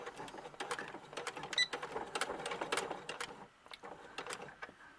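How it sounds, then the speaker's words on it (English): Sewing machine top stitching along the very edge of a coat pocket, a fast steady mechanical whir that runs in short bursts and slows briefly near the end, close and fairly quiet with no speech. "I'm going to sew on top stitch on the very edge of the side of the pocket."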